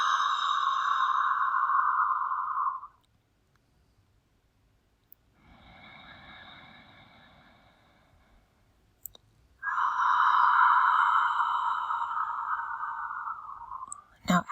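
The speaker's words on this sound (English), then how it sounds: "There's a soft toning of the epiglottis at the back of the throat to create a whisper sound," Ujjayi pranayama breathing from a prenatal yoga session: two long, loud whispery throat breaths like fogging a mirror, separated by a quieter, softer breath, each sounding alone and close.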